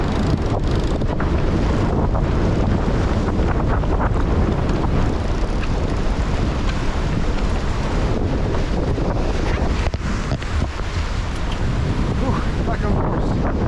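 Strong wind gusts roar across a sailboat at sea on the North Sea, loud and continuous buffeting against the microphone with waves rushing underneath.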